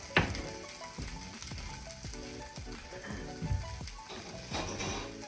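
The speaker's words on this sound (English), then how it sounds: "Oh yeah, got a little sizzle." Soft sizzling crackle of sausage browning in a pan, with light clinks and taps of utensils over a steady frying hiss.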